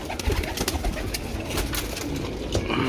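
Soft, repeated cooing from desi pigeons mixes with wing flutters and rustling nearby, the low coos coming in irregular bursts without speech.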